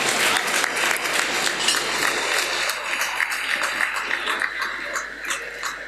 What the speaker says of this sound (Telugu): గట్టిగా చప్పట్లు కొట్టి వారిని అభినందించుదాం